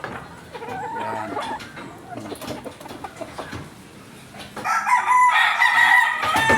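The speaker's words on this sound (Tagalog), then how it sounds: "Malaking manok." A large backyard rooster crows loudly and close by, first broken clucks and calls, then a long strained cock-a-doodle-doo near the end, with someone talking briefly in between.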